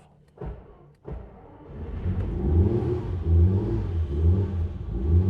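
A 1969 Ferrari 365 GTC engine cranks, catches and fires, then settles into a deep, rising rev that holds steady up close.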